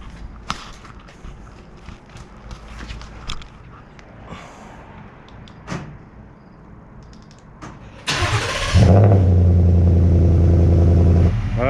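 A 2018 Ford F150 pickup truck with a fresh nano ceramic coating starts up and is driven out, its engine rising to a loud steady idle after quieter handling noises.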